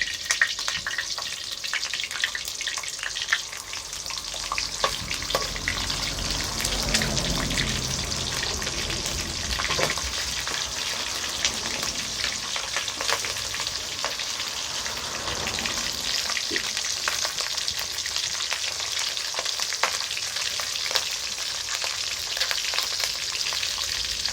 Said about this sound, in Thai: อันนี้จะเอาปลาทูมาทอดนะครับ